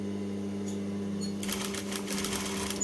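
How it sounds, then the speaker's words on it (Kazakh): A sewing machine stitches fringe onto a handmade rug, starting with a steady hum, then running faster with a rapid, quiet rattling stitch at close range. "Енді қазір бахраманы тігіп шығамыз"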